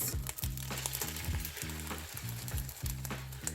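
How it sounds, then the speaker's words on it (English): Eggs fry in a sprayed pan, a close, steady sizzle with rhythmic scraping and clatter from a utensil working the pan. "I'm going to pour in my eggs."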